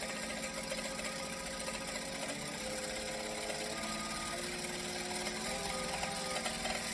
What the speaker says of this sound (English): So we're just stitching, back stitching.